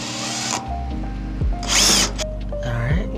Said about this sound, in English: And before we put the terminal in, we're just going to drill it in first.